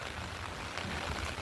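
Heavy rain falls in a steady, dense hiss of drops on surfaces outdoors, even and continuous without any talk.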